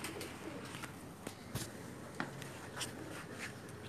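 Pigeons on a rooftop coop coo faintly amid scattered sharp clicks and taps of wings and feet, a quiet, intermittent scene without speech.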